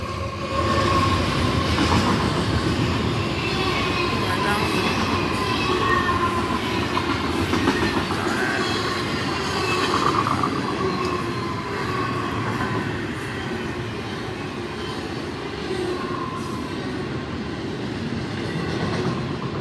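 A train rolls past close by, a steady loud rumble with rhythmic clickety-clack of wheels over rail joints sustained throughout, with no talking.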